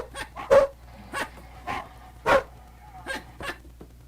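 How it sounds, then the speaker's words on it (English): A dog lets out a quick series of about nine short barks and yips in irregular bursts, moderately close, with quiet gaps between them. "that's a dog barking."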